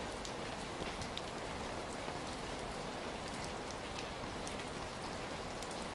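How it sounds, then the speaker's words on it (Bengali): Steady rain falling with wind outdoors, a dense continuous hiss of drops on surfaces that holds even throughout with scattered sharper patters. "এরই মধ্যে কিন্তু বাতাস শুরু হয়ে গিয়েছে, তার সাথে বৃষ্টি পড়াও স্টার্ট হয়ে গিয়েছে"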